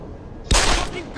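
A burst of gunfire in the video game Deus Ex: Human Revolution, a sudden loud volley that starts abruptly partway in and trails off over about a second, with no talking.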